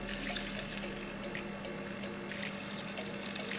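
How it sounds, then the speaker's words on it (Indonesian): Boiling broth is poured over flourless diet beef meatballs, making a soft, continuous splashing and trickling of liquid for a few seconds with no talk over it. "Jadi di sini gue akan langsung siram aja"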